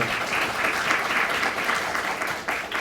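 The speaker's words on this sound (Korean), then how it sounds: "뜨거운 박수로 이동 교수님" Warm, sustained applause from an audience in a university lecture hall welcoming an invited chemistry professor, a dense even wash of clapping throughout.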